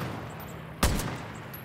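One sniper rifle shot rings out in Far Cry: New Dawn, a sudden sharp crack with a short tail over a steady background hum of game ambience.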